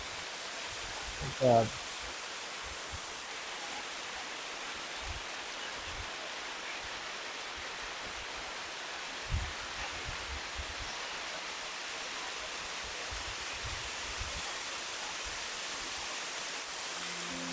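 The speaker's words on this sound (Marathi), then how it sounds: "एवढं त्या पाण्याचा आदळण्याचा आवाज आपल्याला इकडे येतोय" A village waterfall crashes down from a height into a river, a dense, continuous roar of falling water heard close and steady throughout, with a couple of brief knocks.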